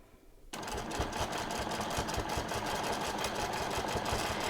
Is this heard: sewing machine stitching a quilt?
yes